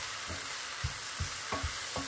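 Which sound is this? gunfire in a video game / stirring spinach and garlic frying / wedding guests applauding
stirring spinach and garlic frying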